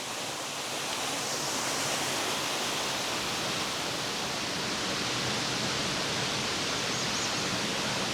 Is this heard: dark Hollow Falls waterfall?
yes